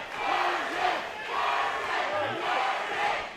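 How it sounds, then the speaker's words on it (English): Fight-night crowd at a SteelFist combat sports event roaring and cheering wildly in sustained swells, with shouts rising and falling throughout, loud and dense with no clear individual voice. "And the crowd going crazy"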